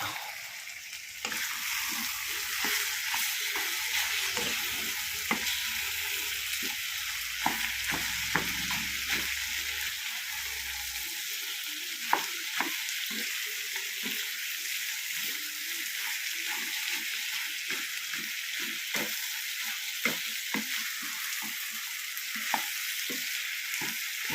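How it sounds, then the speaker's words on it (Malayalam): Pork with shallots stir-frying in a pan, a steady loud sizzle throughout with frequent sharp scrapes and taps of a spatula stirring, close by. "ഒന്ന് ഇളക്കി ഇട്ട് കൊടുക്കാം ഒന്നുകൂടെ."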